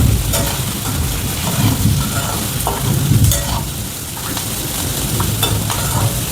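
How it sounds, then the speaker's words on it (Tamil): Onions with a pinch of salt sautéing in a pan for a spicy tomato-onion chutney, a loud continuous sizzle broken by rhythmic stirring scrapes, close and without talking. "வெங்காயம் கொஞ்சம் ஃபாஸ்ட்டாக வதங்கிறதுக்காக கொஞ்சமாக சால்ட் ஆட் பண்ணியிருக்கோம்"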